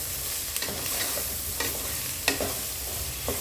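Soya chunks coated with garam masala and chillies sizzle steadily in a pan while a spoon stirs them, with several sharp scraping clicks standing out above the continuous frying hiss.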